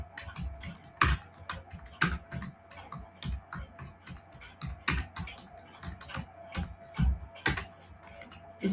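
Keys on a computer keyboard clatter in quick, uneven bursts as code is typed, with sharper clicks standing out from the steady tapping. The sound is close and fairly quiet, and no one speaks.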